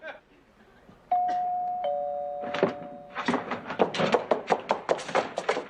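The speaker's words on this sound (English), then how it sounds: "It's the doorbell, not the phone." A doorbell rings with two sustained electronic tones, then a rapid run of taps or knocks follows in a close room. People speak around it.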